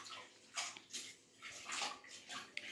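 Potatoes dropped into a pot of water while cooking potato-brinjal sambar, giving several soft splashes and sloshes in quick succession, faint and close, with no talking.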